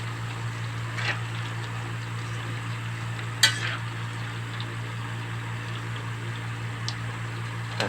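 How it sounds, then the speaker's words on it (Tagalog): Peanuts frying in a pan for adobong mani are stirred now and then, a steady low sizzle with a few faint scraping clicks over a constant hum. "Nahalu-haluin mo lang siya para hindi masunog."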